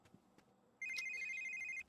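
A telephone rings in The Sims 3, one steady electronic trill lasting about a second, clear and fairly close over a faint game background.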